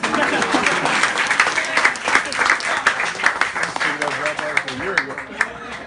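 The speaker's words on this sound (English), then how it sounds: "give her a round of applause for that" A room full of people applauds a student in a songwriting class, a dense, steady wash of clapping that runs throughout with voices mixed in.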